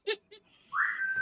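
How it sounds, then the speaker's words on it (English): A pet bird whistles in the background: two short chirps, then a rising sustained whistle note held for about half a second, fairly clear and close. "Your bird's singing in the background."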